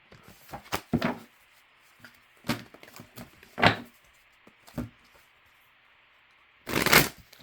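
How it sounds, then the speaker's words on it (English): Oversized tarot cards are shuffled in several short, close, soft riffling bursts separated by pauses, with a longer burst at the end. "Oh, these gigantor cards, it's hard to shuffle."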